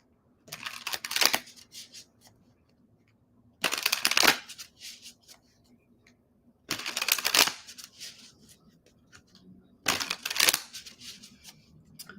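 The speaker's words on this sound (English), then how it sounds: "I'll just do 4 cards. I'll just blitz it." Tarot cards are shuffled by hand in four separate bursts of crisp, rapid riffling, close and clear, with quiet pauses between each shuffle.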